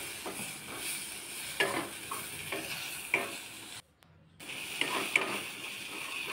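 Onion, tomato and sesame seeds roast in a pan with a soft, steady sizzle, broken by repeated scraping stirs and one brief silent pause.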